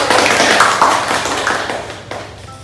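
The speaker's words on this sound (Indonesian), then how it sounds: "Yuk beri tepuk tangan untuk kita." Applause at an Indonesian classroom lesson, a short burst of close, fairly loud hand clapping that slowly thins and fades out.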